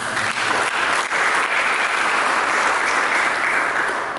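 A church congregation breaks into sustained, loud applause following a sermon proclaiming the Messiah's birth, a dense steady wash of clapping lasting the whole stretch with no talk over it.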